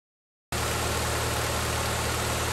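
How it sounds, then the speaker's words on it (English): Honda car engine just started and idling steadily with its AC compressor running, a constant close hum and rumble that begins abruptly after a short silence and holds steady. "we're gonna go and start up the car and see if this compressor clutch engages now"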